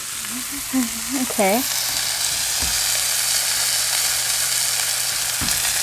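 Sausage patties sizzle steadily in a hot pan, a constant close frying hiss running throughout, with a brief spoken word and a short whine-like tone early on, plus a couple of soft clunks from the pan.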